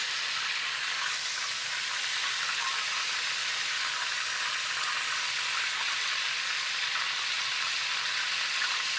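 Beef tenderloin frying in a hot pan gives a steady, even sizzle with a bright hiss that holds unbroken, close by and alone.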